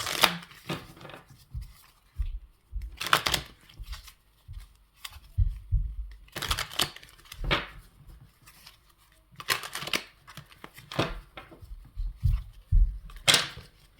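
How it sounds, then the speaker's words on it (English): Tarot cards are shuffled in a quiet room, a run of short crisp riffles and soft slaps coming in irregular bursts, close and fairly faint with no speech. "Let me shuffle the cards."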